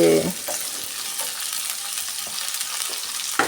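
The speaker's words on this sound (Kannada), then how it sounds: "ನೋಡಿ, ಈ ಥರ ಫ್ರೈ ಮಾಡ್ಕೊಳ್ಳೋಣ." Onions fry in a pan with a steady, close sizzle, and a spatula occasionally scrapes and stirs through them.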